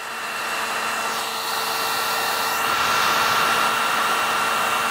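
A heat gun blows hot air with a steady, loud whirring hiss and a faint whine, swelling slightly louder partway through, while heating tree sap on car paint.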